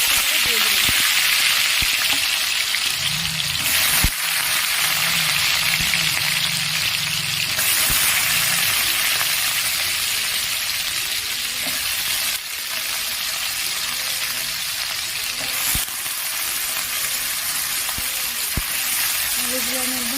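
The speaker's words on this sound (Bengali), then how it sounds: "আলুগুলো আমি একদম লাল করে ভেজে নেব।" Potatoes frying in hot oil seasoned with panch phoron, giving a loud, steady sizzle that continues throughout, with a voice speaking faintly beneath it for part of the time and occasional clinks of stirring.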